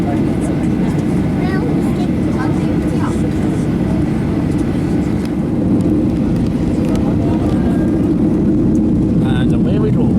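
An airliner taking off, heard from inside the cabin on a holiday flight to Spain: a loud, steady engine roar throughout, with voices faintly underneath.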